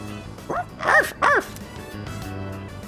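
Dog barking in the Persona 3 Reload video game: two or three short, close barks in quick succession over a quiet game background.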